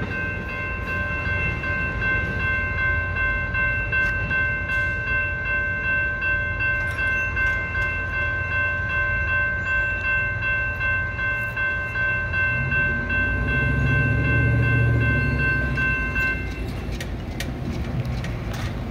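Amtrak California San Joaquin train 714 with cab car 6962, standing for servicing at Oakland Jack London station, a steady mechanical drone with a sustained tonal hum and a low rumble that swells near the end, heard alone without speech.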